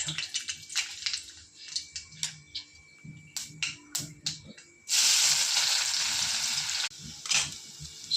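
Hot oil sizzles loudly in a pan while kanda poha is being made, a sudden broad hiss that holds for about two seconds and then cuts off, amid quieter clinks and kitchen handling noises.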